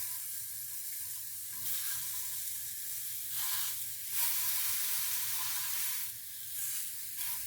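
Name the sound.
limes charring in a hot pan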